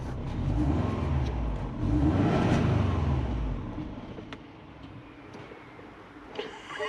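A car engine close by is revved up and held for a few seconds before settling back down toward idle, with faint ticking and clicks afterward.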